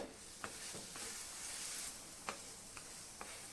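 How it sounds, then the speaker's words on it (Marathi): Thalipeeth flatbread roasts on a pan over low heat with a faint, soft sizzle, broken by a handful of light taps and clicks spaced through the few seconds. "मंद आचेवरती आपण हे छान एक साईड खरपूस भाजून घ्यायची"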